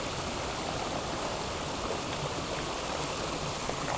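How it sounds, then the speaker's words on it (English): After Hurricane Sandy in Maryland, rain and runoff water pour down in a steady, even hiss like a stream. It is faint and continuous, with no talking. "There we got more rain and water coming down."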